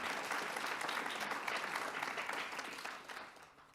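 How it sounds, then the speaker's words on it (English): Audience applause at a poetry competition: a dense, steady wash of clapping from a full room, loud and sustained before gradually thinning and fading toward the end, with no voices over it. "Can we get a round of applause for those people,"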